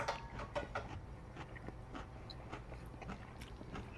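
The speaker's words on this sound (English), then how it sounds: "Are you hearing me crunch?" Crunchy chewing on knishes, close to the mic, with a run of irregular bites and crackly crunches spread over a few seconds and a louder burst at the end.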